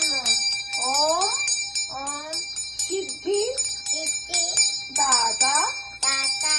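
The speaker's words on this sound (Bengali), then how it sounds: "রাখো ঘন্টাটা।" Prayer bell rung during Ganesha worship at home, a bright metallic ringing with sustained high overtones that repeats throughout while voices chant and speak over it.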